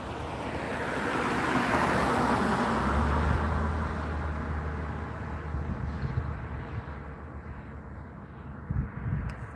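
A car passes along a road beside a fishing spot, a broad rising and fading wash of tire and engine noise, with wind or surf-like hiss continuing underneath.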